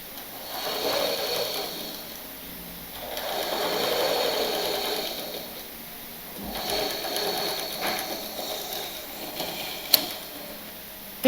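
A sewing machine runs in steady bursts while stitching elastic onto a baby panty, its motor whirring continuously with short pauses between runs. A single sharp click sounds near the end.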